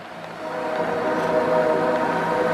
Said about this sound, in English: There's a train in the background.